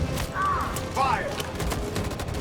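A short volley of gunfire in the Detroit Become Human video game, a crackling spread of shots over a dense background rumble, with faint tonal cries briefly rising above it.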